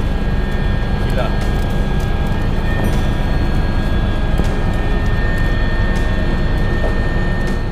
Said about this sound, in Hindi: हेलीकॉप्टर के अंदर झारखंडी व्यंजनों का मजा लेते सीएम हेमंत सोरेन